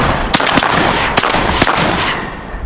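Several sharp shotgun blasts from a $100 pawnshop shotgun during a farm-field duck hunt, three or four loud reports spaced about a second apart with short echoing tails.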